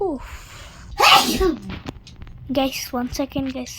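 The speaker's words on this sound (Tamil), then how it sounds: "தும்மல் வந்துச்சு, அதனால தும்முனேன்." One sharp, loud sneeze bursts out close by, with a person talking casually before and after it.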